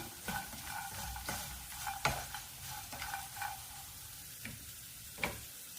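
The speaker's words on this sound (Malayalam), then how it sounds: "ഇനി കാഷ്യൂനട്ട്, മുന്തിരി ചേർക്കുകയാണ്." Cashews and raisins fry in a pan with potatoes and onions, a steady sizzle broken by repeated scraping stirs of a spatula, close and fairly quiet.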